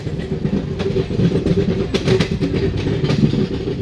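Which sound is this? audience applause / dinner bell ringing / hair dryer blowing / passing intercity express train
passing intercity express train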